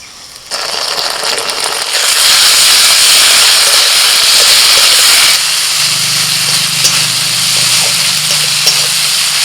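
Softened onions frying in a pan hiss loudly as ginger-garlic-green chili paste goes in: a sudden intense steamy sizzle that holds steady, later joined by a low hum.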